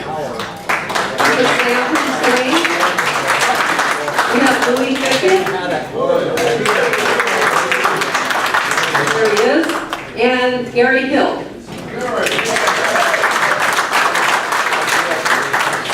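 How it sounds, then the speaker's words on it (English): An audience at a Longview Pioneer Lions Club officer installation claps steadily for a long stretch, loud and close, while a speaker keeps talking over the applause, which briefly dips and then swells again. "I know you've applauded already"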